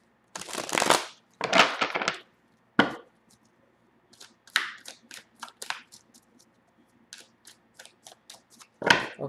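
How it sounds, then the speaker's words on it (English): A deck of tarot cards is shuffled in several quick riffling bursts separated by pauses, followed by lighter scattered card taps and flicks, close and alone. "You want me to shuffle a lot today."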